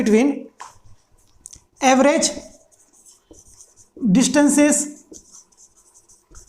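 A teacher's pen or marker scratches across a board during a Class 11 physics lecture, with short strokes heard between stretches of the teacher talking.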